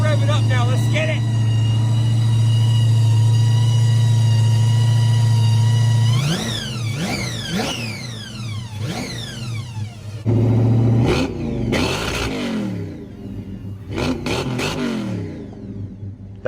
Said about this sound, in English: Alright, I'm gonna rev it up now.